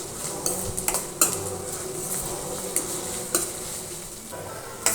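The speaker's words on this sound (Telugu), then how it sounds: "జింజర్ గార్లిక్ పేస్ట్ వేసుకొని బాగా ఫ్రై చేసుకోవాలన్నమాట" Onions frying in a pan with ginger garlic paste, a steady close sizzle under repeated sharp clinks and scrapes of a utensil stirring against the metal pan.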